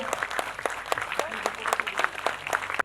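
A hall audience claps together after being asked to stand in honour of a fallen army captain's mother, dense even applause with sharp individual claps standing out, sustained and then cut off abruptly at the end.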